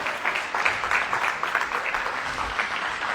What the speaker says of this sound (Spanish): Dan un aplauso a Dios